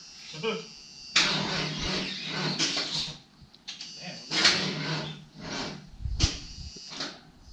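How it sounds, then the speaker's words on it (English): A salvage-auction car's starter motor cranks in several rough, broadband bursts of a few seconds each, close by, with voices talking between and over the attempts. "Is that the motor? I wonder if it's a starter."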